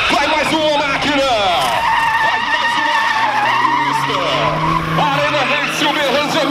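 A drift car's tires skid and squeal loudly and continuously at a drift competition in an arena in Uberlândia, Brazil, with engine roar, while an announcer talks over it.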